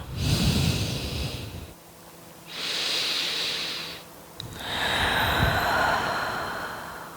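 Slow, deep breathing during a yoga session: a long hissing inhale or exhale, a pause, then two more drawn-out breaths, fairly close and alone with no talk.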